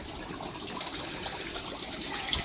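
Soft, steady trickle of water slowly filling a pond through a water feature fed by a pipe, a faint continuous flow with small splashes and no voices.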